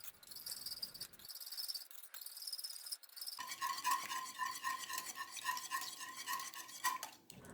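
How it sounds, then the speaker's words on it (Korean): Eggs whisked hard in a ramen bowl with a whisk, a fast continuous scraping and clicking rhythm, close and fairly loud, with a brief quieter stretch before the vigorous whisking resumes. "그래서 라면 그릇에 붓고 열심히 휘젓기 시작한다."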